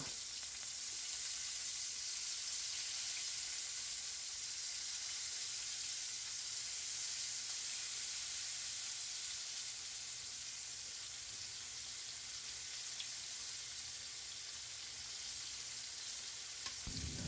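Mushrooms and jackfruit fry and brown in a pan for plant-based soul food, giving a soft, continuous hissing sizzle that stays fairly quiet and even throughout, with no voices.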